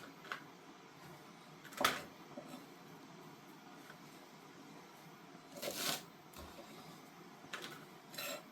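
A knife cuts snow peas in half on a board, making a few sharp, faint chopping knocks spaced several seconds apart over a quiet background.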